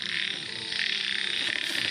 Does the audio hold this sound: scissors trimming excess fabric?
no